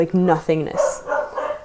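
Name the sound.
dog barking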